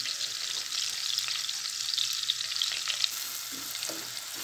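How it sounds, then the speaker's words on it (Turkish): Medium-sized chopped onions sizzle and crackle steadily in melted fat in a pan, with occasional stirring, close and moderately loud, and no speech over them. "soğanlarımızı da ekledik. Böyle güzelce bir kavuralım."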